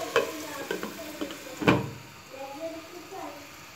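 Broccoli curry fried in a pan and stirred with a spoon: a few sharp scrapes and clatters, one louder knock, over a soft sizzle, close by, with a voice speaking.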